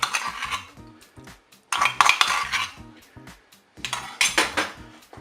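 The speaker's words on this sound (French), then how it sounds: "Je mélange bien sûr." A spoon stirs crème fraîche through the juices of a pork roast in a Cookeo pot, giving bursts of metallic scraping and clinking against the pot in three separate rounds with short pauses between them.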